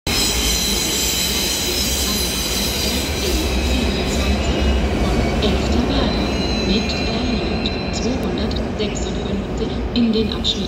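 A train rumbles steadily into a German railway station with grinding, squealing wheels and rattling cars, loud and close throughout, with faint German announcements in the background.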